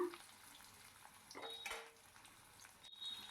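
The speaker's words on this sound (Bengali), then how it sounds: "এবার ওপর নিচ নেড়ে চেড়ে তেলের সাথে মাখিয়ে নিলাম" Potatoes turned over in hot oil in a pan while making sim alur paturi, a soft bed of sizzle with a few scraping stirs and light utensil clinks, close and fairly quiet.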